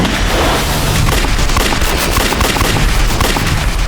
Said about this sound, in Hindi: Open fire.